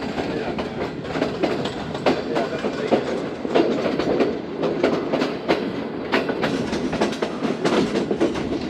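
The 34 Down Pak Business Express train rolls into Rohri Junction with a rhythmic clickety-clack of wheels over rail joints, steady and fairly close, with no voices.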